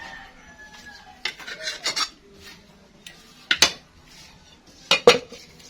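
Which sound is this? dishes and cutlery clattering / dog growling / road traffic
dishes and cutlery clattering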